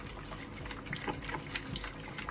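A hot liquid mixture is stirred in a home kitchen, giving close, continuous soft sloshing with small scraping clicks and no talk.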